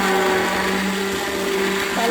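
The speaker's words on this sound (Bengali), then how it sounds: "এই যে আমার সেই ব্লেন্ড করা, এটা আমি এর সাথে দিয়ে দিই। এবার ব্লেন্ড" A hand blender whirs loudly and steadily, blending bullet coffee in a container, a continuous close motor drone with a slight pitch shift near the end.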